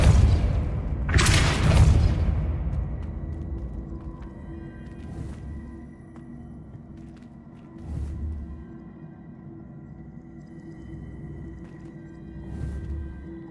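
A Depulso spell is cast in Hogwarts Legacy, a loud deep whooshing boom that decays into a low rumble, followed by fainter thuds and muted game ambience.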